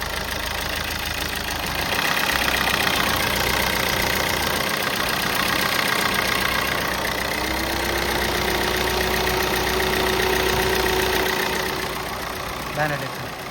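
A 2015 Maruti Suzuki Ertiga VDi diesel engine idles just after starting, giving a steady, fairly loud clattering rumble with a faint rising whine late on, while a voice talks over it.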